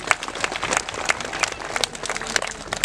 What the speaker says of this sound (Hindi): उनके लिए भी जोरदार ताली बजा देंगे।